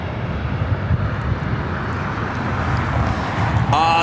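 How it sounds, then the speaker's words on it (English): A Delta Airlines Airbus A319 arriving on the north side at LAX from San Antonio, a loud steady broadband engine roar that stays level, with no talk heard. "Next arrival here on the north side is Delta Airlines Flight 2810 coming in from San Antonio"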